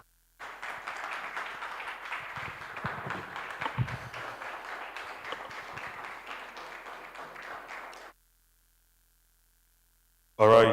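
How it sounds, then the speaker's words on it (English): An audience at an entrepreneurship chat event claps for a speaker, producing a sustained, moderately loud burst of applause that lasts several seconds before stopping abruptly into silence. "a resounding applause for one of our facilitators"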